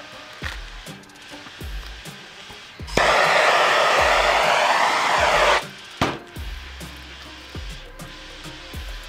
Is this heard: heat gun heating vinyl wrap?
yes